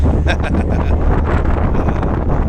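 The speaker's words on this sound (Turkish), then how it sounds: "rüzgara bak sesini duyuyor musun? Rüzgarın sesini" Heavy wind buffets the microphone on a ferry from Kadıköy to Karaköy and Eminönü in Istanbul, with a loud, continuous low roar and rumble, close and unbroken throughout.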